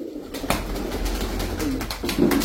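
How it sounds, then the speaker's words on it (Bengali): A female Hatibaz pigeon gives soft, low cooing calls amid faint rustling and fluttering indoors, close by, with no talking. "এটা একটা মাদি কবুতর"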